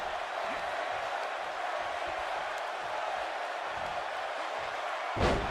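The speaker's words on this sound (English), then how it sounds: "You hear this crowd, this ecstatic crowd here in Richmond." Arena crowd in the WWE 2K22 wrestling video game, a steady, distant wash of cheering and roaring at a low level, ending with a brief sharp thud.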